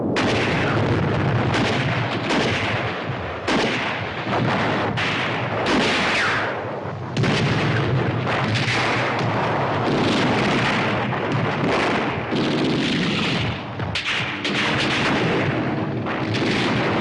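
Heavy cannon blasts from Tiger tanks' 88 mm guns boom repeatedly at irregular intervals in the Battle of Normandy, loud and close, each with a rolling rumble, battle noise continuing throughout.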